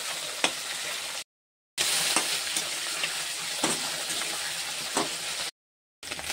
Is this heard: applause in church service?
no